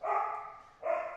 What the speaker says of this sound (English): I have dogs. Please don't mind the dogs. They are noisy.